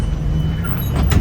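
A bus door on a ride to Hoi An, Vietnam slides shut with a loud, close pneumatic whoosh and a closing thud, over the steady rumble of the engine.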